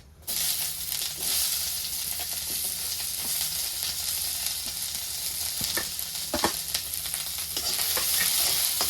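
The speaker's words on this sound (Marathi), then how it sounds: "आता ह्यातच मी कांदा टाकून घेते" Onion fries in oil in a pan for dry chicken sukka, a dense continuous sizzle close to the pan with a few light stirring taps, steady throughout without speech.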